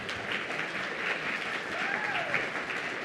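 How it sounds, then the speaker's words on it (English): Audience applause at a live campus show, a steady dense wash of many hands clapping at once, fairly loud and sustained throughout without talk. "So go ahead and give him an applause."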